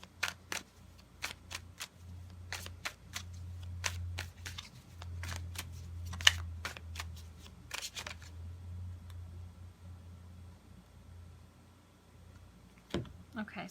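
Tarot cards are shuffled by hand in a quick, crisp series of riffling clicks and taps over several seconds, close and fairly quiet. Silence follows, then a single soft tap near the end.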